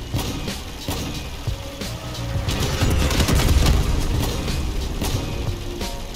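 Weapons firing during vehicle combat in the game Crossout: a dense, loud wash of rapid gunfire and rumbling booms with constant engine noise beneath, sustained without pause.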